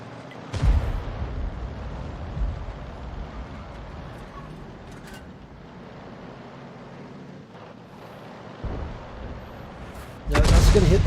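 A tank's artillery shell fires in a video game, with a sharp booming blast near the start and another loud burst at the end over a low rumbling engine bed.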